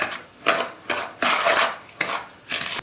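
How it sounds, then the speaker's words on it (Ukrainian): Eggs and sugar being whisked by hand with a wire whisk in a bowl, heard as repeated bursts of scraping and clinking against the bowl in an uneven rhythm, close and fairly loud with no talking. "беремо миску, вбиваю сюди яйця, додаю цукор і збиваю вінчиком"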